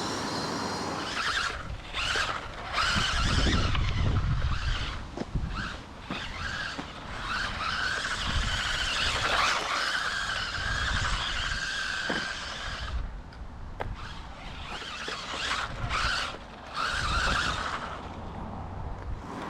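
A UDIRC 1607 Porsche 911 RC drift car runs at speed setting 2, its small motor whining loudly and continuously for about twenty seconds with tire squeals and skids as it slides, close and with no talking.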